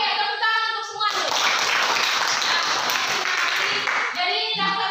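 A class of students breaks into a round of hand clapping for several seconds, dense and close, with voices talking before and after it.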